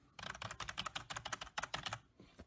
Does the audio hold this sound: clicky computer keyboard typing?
yes